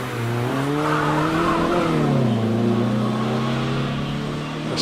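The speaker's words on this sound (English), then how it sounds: "On up to Pardon goes the green MX-5." A green Mazda MX-5 races up the Prescott hillclimb course, its engine droning steadily through rising and falling revs, continuous and moderately distant for the whole stretch.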